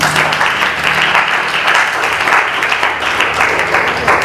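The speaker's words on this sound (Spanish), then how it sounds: "Denle un aplauso al Señor." A church congregation claps for the Lord during a sermon, producing dense, sustained applause that stays loud and even for the whole stretch, with no clear speech over it.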